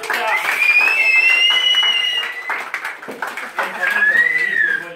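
An indoor audience at a season-ending event claps in a short burst of applause for a named person, mixed with a whistling tone and voices talking over it.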